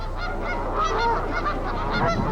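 Geese and swans honking together at a winter feeding spot in Monticello, Minnesota, with a dense, continuous chorus of overlapping calls from a sizable flock nearby.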